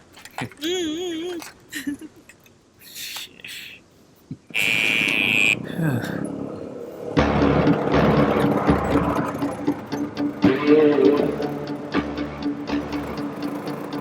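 A faulty motorbike's engine starts up partway through and runs with a low, pulsing idle, mixed with jangling and voices talking over it.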